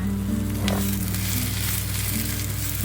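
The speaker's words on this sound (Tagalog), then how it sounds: "tutuin lang natin to hanggang mag-brown na at mag-tender mag na siya" Red onions frying in a pan until browned and tender, a steady close sizzle with a low hum throughout and faint stirring scrapes, no talking.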